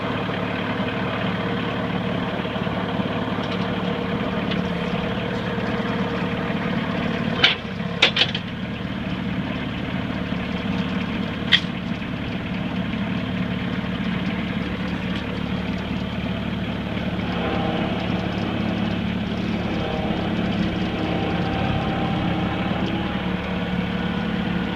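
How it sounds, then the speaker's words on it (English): A Bobcat loader's diesel engine runs steadily as it unloads a mower from a trailer, a continuous low rumbling drone with a few brief clanks and knocks midway, no talking. "So I'm going to get the Bobcat and use the Bobcat to unload this mower"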